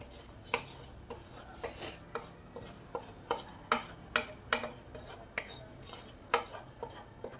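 A spoon scrapes and clinks against a pot as fenugreek laddu mixture is stirred together with hot jaggery syrup, a repeated irregular series of close metallic scrapes and taps at a quiet level.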